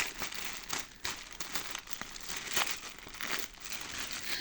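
Plastic packaging from a Temu parcel crinkles and tears open up close, a run of quiet crackling rips and rustles with no voices.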